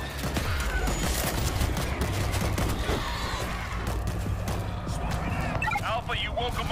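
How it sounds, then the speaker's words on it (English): Sustained rapid machine gun fire rattles in the World War Z zombie shooter, dense and loud throughout, mixed with game effects and voices talking over it. "Machine gun."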